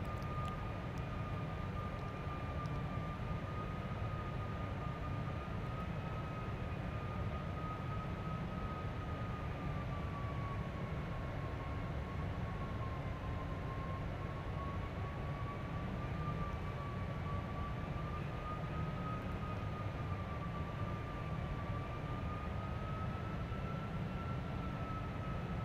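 A Qantas 747 in a flight simulator holding near Roma, its engines a steady, even drone with a faint whining tone riding above, unchanging and continuous throughout.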